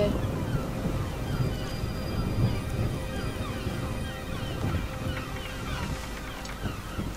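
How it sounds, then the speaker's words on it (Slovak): Atlantic Ocean waves in the video game Assassin's Creed 3 wash steadily with a windy, rushing roar, a continuous surf texture that stays fairly loud throughout. "Atlantický oceán"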